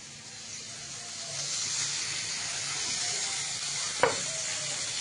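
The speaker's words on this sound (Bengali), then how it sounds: "দিয়ে দেবো তেলে একটু পেঁয়াজ কুচি, আর সঙ্গে একটু সর্ষে ফোড়ন থাকবে" Chopped onion and mustard seeds sizzle steadily in hot oil with a constant bright hiss, and a single sharp metallic clink sounds near the end.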